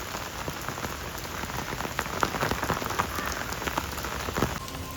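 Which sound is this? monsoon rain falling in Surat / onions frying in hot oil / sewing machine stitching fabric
monsoon rain falling in Surat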